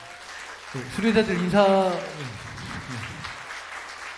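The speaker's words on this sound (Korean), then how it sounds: "함께 인사드릴 때 다 같이 박수 부탁드리겠습니다" Church congregation applauding for children finishing church school at Sunday worship, a soft, steady wash of clapping heard underneath a man's clear spoken announcement.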